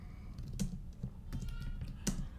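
A handful of keystrokes on a computer keyboard as a file name is typed, a few soft, separate taps under steady room noise.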